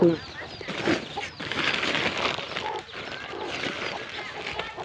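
Chickens cluck and flutter close by, with some wing flapping amid the low murmur of the surroundings.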